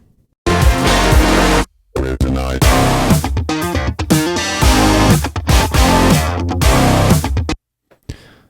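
A heavily distorted, aggressive riff plays in loud chopped bursts with abrupt stops and gaps, gritty and electronic-sounding, ending with a short stutter.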